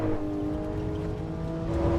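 Race car in the AC EVO racing game with its traction control active, a steady engine drone layered with thin whining tones that hold constant throughout, loud and with no talking.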